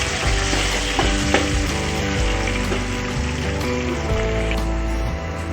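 Chopped onion frying and sizzling in a well-heated kadhai for spinach dal, a steady, close crackling hiss with light stirring scrapes throughout and no talk.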